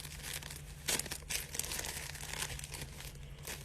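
A packet of charcoal is cut open, giving soft crinkling and rustling of plastic packaging with a few sharper tearing bursts, faint and close against a low background hum.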